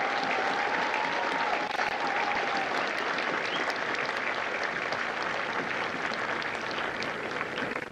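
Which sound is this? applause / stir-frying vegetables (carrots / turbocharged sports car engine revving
applause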